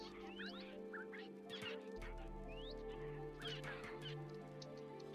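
Chickens in the Minecraft video game cluck in short repeated bursts, a few birds sounding at moderate distance over a steady low hum and faint background noise.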